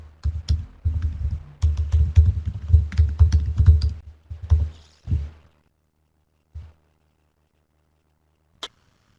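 Quick bursts of computer keyboard typing, close and crisp, for about four seconds while a Python command is entered, then a few isolated key presses spaced apart in quiet.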